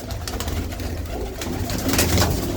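Pigeons coo in a flock kept in a loft, with low, overlapping calls that are fairly close and steady, carried over a rumbling background.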